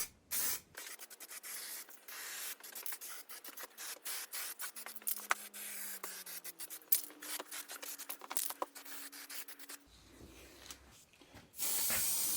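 Spray gun laying etch primer onto a Triumph TR7 front suspension subframe, a steady close hiss broken by many short bursts and clicks, ending in a brief lull and a final louder blast of spray.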